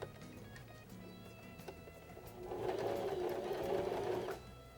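Sewing machine stitching a folded fabric hem for a notebook cover, a short close burst of rapid whirring stitches in a quiet room.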